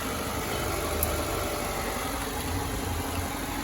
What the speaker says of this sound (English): That's it, and the car is running.